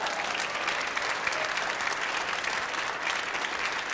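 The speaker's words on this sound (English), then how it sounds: "Now, yeah, round of applause, big stuff." Spectators at a squash tournament final applauding, a dense, even wash of many hands clapping continuously at moderate volume, sustained throughout without speech.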